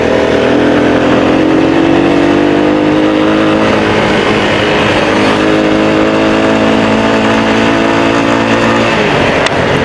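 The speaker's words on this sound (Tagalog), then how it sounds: "itong motor na to ay napakalakas at napaka-smooth patakbuhin" A powerful, smooth-running motorcycle engine drones loudly and steadily up close. Its pitch climbs slightly at first, then holds an even, continuous hum throughout.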